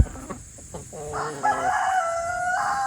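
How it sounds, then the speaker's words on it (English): A farm rooster crows with a drawn-out, strained call after a few short clucks, close and loud over faint outdoor background. "So Rocky is our primary rooster"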